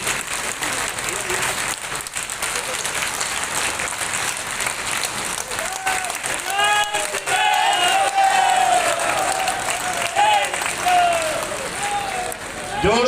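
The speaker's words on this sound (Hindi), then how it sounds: "जोरदार तालियां बजाते रहिए।" Sustained loud crowd applause at a BJP party workers' meeting in Biaora, dense clapping throughout with rising cheers and whistle-like tones in the second half, voices mixed in.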